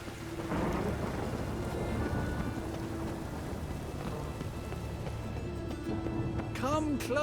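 Steady rain and rumbling thunder in the video game The Witcher 3, a continuous wash of rainfall with low rolling thunder throughout and a voice speaking briefly over it.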